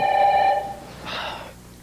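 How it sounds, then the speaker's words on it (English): An indoor telephone bell rings once, loud and close, then cuts off and is followed by a brief breathy exhale. "Can't you get her to answer that damn phone?"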